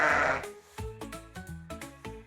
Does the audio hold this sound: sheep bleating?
yes